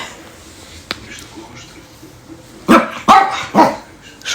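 A dog gives three sharp barks in quick succession near the end, after a quiet stretch with a single faint click.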